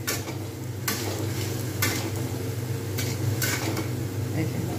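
Spices stir-fried in oil for a chickpea and potato curry: a loud continuous sizzle with repeated scraping stirs of a spoon against the pan, close and busy throughout.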